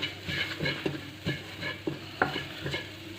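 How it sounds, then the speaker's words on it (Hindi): A spoon stirs chicken and cabbage samosa filling in a hot pan, with regular scraping strokes about every half second over a soft, steady sizzle. "इसको थोड़ा सा मिक्स कर लेंगे अच्छी तरह।"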